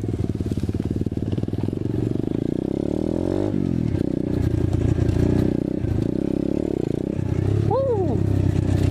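A 2019 Apollo 125cc dirt bike engine drones loud and close, climbing in pitch as it revs toward a jump, with clattering and scraping and a sharp rev swell near the end; a voice is heard briefly.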